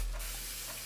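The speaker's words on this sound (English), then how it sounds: "we're going to just spray a little oil individually on each one." A short, close hiss of an aerosol cooking-oil spray onto panko-coated chicken sticks, lasting under a second.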